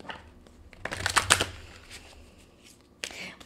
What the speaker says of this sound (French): Je vais aller chercher une carte des anges.